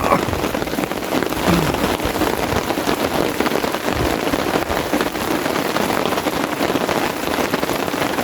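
Torrential rain and gusting wind pelt a tent while wild camping, a dense, loud, steady patter of drops on fabric heard from inside with constant rushing noise.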